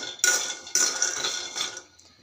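Peanuts dry-roasting in a kadai over a low flame, stirred with a spatula: three loud, close bursts of scraping, rattling clatter, the last fading into quiet.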